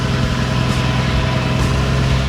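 A late-1970s Scania LB141 cabover truck engine idles with a deep, steady, loud rumble that stays even and uninterrupted throughout.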